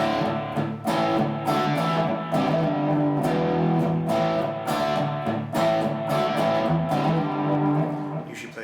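Distorted electric guitar plays a riff slowly, in loud, steady chord stabs with a slide back and forth, up close with no talking.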